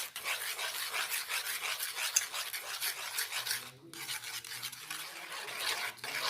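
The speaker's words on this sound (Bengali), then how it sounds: "দিয়ে ডিমটা এই উপকরণগুলির সাথে খুব ভালোভাবে মিশিয়ে নেব" Egg being mixed with mustard oil and other ingredients in a bowl, a continuous close rasping, scraping whisk-and-spoon sound with a brief pause near the middle before the stirring resumes.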